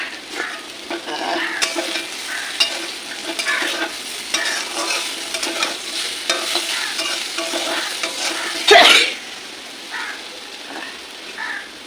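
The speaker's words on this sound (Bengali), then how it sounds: "এই যেখানে আলু ভাজা হচ্ছে" Potatoes sizzle and crackle in a hot pan nearby, a dense continuous frying hiss with occasional stirring scrapes and one louder burst near the end.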